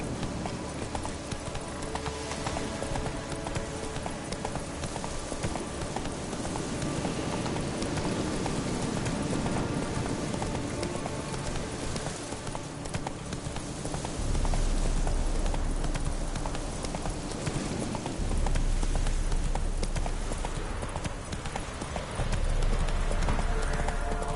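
Roach, the horse in The Witcher 3, gallops steadily with continuous close clip-clop hoofbeats over rain pattering on the ground, with ambient game sound and faint speech underneath.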